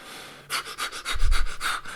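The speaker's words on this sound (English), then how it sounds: "breathing this really fast, shallow breath, which got my blood flowing. It's called breath of fire." Breath of fire: rapid, shallow, forceful breaths in a quick regular series of about eight huffs, close and fairly loud.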